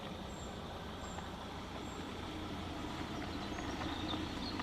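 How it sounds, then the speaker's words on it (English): A car on a road rolls by as a steady, fairly faint rumble of engine and tyre noise that swells slightly toward the end, with no voices over it. "Just wait for this car."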